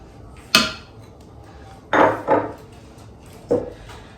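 A whisk stirs flour, baking powder, baking soda, cinnamon and salt together in a bowl for cinnamon chocolate chip muffins, giving four separate clinking, scraping strokes against the bowl with quiet pauses between them.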